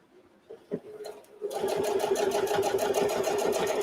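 After a few soft handling clicks, a sewing machine starts stitching a quilted microwave potato bag, a steady close rapid whir that runs to the end.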